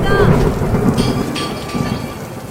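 Cartoon thunderstorm with a loud rolling thunder crack at the start over dense, steady pouring rain, the downpour continuing strongly to the end.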